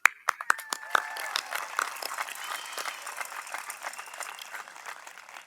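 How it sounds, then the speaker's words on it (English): Graduates at the 2022 California Military Institute ceremony start clapping with a few sharp, separate claps that quickly swell into steady, dense applause, close by and continuing to the end. "Give yourselves a round of applause."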